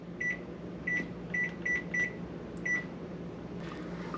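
A kitchen timer beeps in a run of short, thin electronic tones, five quick beeps then one more, moderately quiet over a steady background hum in a kitchen where birria is cooking.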